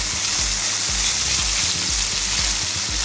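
Food frying in a pan while cooking a zucchini and chicken casserole, a steady close sizzle running continuously with low bumps of pan handling throughout, no talk.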